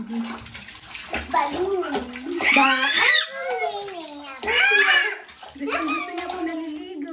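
Water sloshes and splashes as a small child bathes in a tub, running continuously under the child's chatter and an adult's voice.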